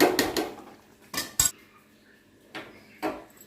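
A spoon stirs jowar rava khichdi in a cooking pot, making a handful of separate metallic clinks and scrapes in two short bursts with quiet gaps between them.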